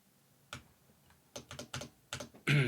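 Keys on a computer keyboard clack in short irregular bursts, a single press followed by a quick cluster of taps, in a quiet room, ending with a louder shuffling thump.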